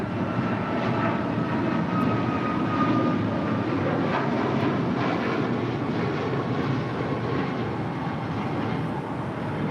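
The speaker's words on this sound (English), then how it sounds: "That is United Airlines 2318 departing to San Francisco on a MAX 9." A United Airlines Boeing 737 MAX 9 departs LAX for San Francisco, a steady, loud jet engine roar sustained throughout with no voices over it.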